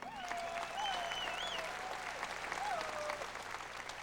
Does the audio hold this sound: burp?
no